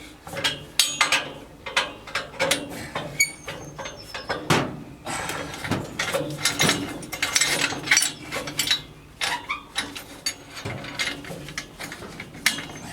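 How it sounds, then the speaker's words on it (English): A wrench works at a tight nut on scaffolding while girders are installed in a farmhouse in Italy, giving irregular metallic clicks and scrapes, close and moderately loud. "Is it just the nut that you're trying to undo? Yeah, it's tight."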